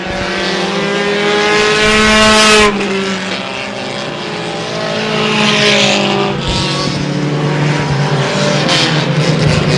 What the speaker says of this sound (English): As April Bordeaux drifts a little bit high, Timmy Gadway goes right on by